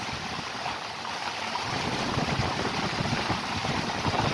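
Strong wind and heavy rain roar in a dense, steady wash that builds slightly louder, recorded up close outdoors near a roadside with no talking.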